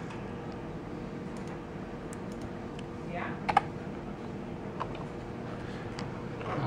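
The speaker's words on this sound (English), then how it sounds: "we'll go ahead and type a name here" Faint, scattered keystrokes as a name is typed on a computer keyboard while setting up Windows on a budget desktop PC tower, with light clicks over a low room hum.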